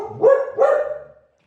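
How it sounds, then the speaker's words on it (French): A dog barks twice in quick succession, loud and close, answering a neighbour's dog, with the second bark trailing off into a short whine and no voices. "se sentait obligée de répondre au chien du voisin"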